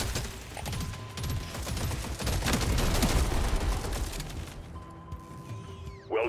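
Rapid gunfire in Deep Rock Galactic Survivor in the Crystalline Caverns, a dense, continuous crackling fusillade with mechanical rattling that swells in the middle and then drops away to quieter game sounds.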